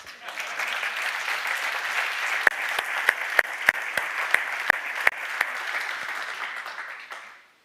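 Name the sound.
applause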